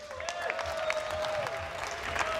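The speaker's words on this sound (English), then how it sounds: "Please, a round of applause for being so great today." Applause from the audience at a King's Cup grand final, a steady broad wash of clapping with a sustained tone and a few voices running over it.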